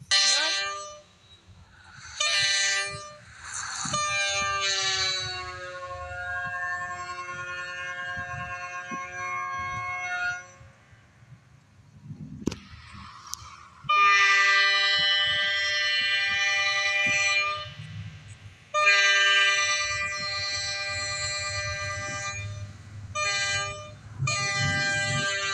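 Horn of an Amtrak Budd Metroliner train sounding in several long, loud chord blasts with short gaps, the final ones clipped, over a low rumble.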